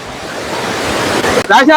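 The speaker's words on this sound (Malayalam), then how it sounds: "രക്ഷയില്ലാത്ത വളരെ ബ്യൂട്ടിഫുൾ ആയിട്ടുള്ള ഒരു വെള്ളച്ചാട്ടമാണ്" Steady roaring rush of falling water fills the clip, loud and close, with a brief voice breaking in near the end.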